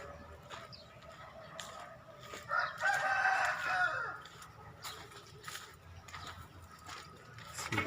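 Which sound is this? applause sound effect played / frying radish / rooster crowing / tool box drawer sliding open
rooster crowing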